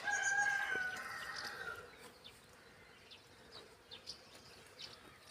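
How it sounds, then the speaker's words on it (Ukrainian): A faint, steady bee buzz hums in the background near flowering acacia trees, with a few brief chirps and a distant crowing sound near the start. "А бджоли"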